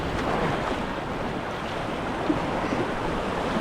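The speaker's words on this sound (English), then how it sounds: "the waves are pounding on the left and the right of us" Ocean surf pounding the shore on both sides during a fishing outing in high surf, a steady loud wash of breaking waves with wind noise and no speech.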